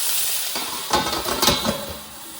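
Frying sizzle of potatoes in a pan over a campfire in a forest, with a few scraping stirs and light clinks of a utensil against the pan, close by, busiest in the middle.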